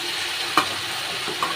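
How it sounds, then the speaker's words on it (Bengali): Spices for a light rohu fish curry with potato and ridge gourd sizzle steadily in a pan, a close continuous hiss with two brief spoon scrapes, no voices. "আমি একটু ভালো করে কষে নেব।"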